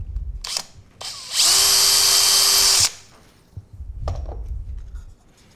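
A spur-type drill bit bores through a wooden jewellery box, a loud, steady, high whine lasting over a second, with softer handling knocks and scrapes on either side and no speech.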